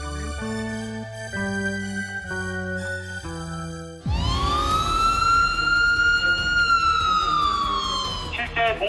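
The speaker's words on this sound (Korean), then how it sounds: "온 국민을 불안에 떨게 한 공습 경계 경보" After a few seconds of stepped electronic tones, a nationwide South Korean air raid warning siren winds up sharply and holds a loud, sustained wail.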